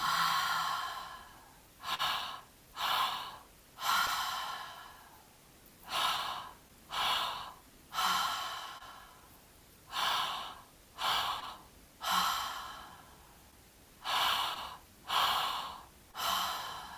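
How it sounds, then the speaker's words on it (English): Deep breathwork breaths in a three-part pattern, a two-stage inhale followed by a long exhale, repeating steadily and close up with no talking. "beginning that 3-part breath, inhale into the belly, inhale into the chest, exhale"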